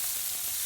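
Butter sizzles in a hot frying pan, giving a loud, close, continuous crackling hiss with no pauses across the short moment.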